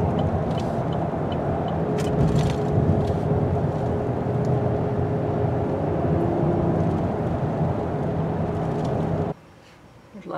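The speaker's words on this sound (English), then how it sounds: "A lot of cars use this road." Steady road traffic rumbles on a busy road, heard close from inside or beside a moving vehicle, a continuous loud wash of engines and tyres that cuts off abruptly near the end.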